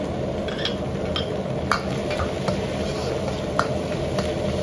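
Minced meat being stir-fried in a wok for a steamed tofu dish: a spatula scrapes and taps the metal in irregular clicks over a soft, steady sizzle.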